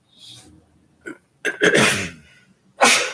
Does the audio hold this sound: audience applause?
no